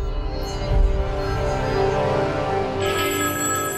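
A telephone rings in a Telugu television serial scene, a steady repeating electronic ring that carries loudly and continuously for a few seconds with no talk over it.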